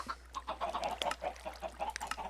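Minecraft chickens cluck repeatedly in short, rhythmic bursts, faint and overlapping, over a low steady hum.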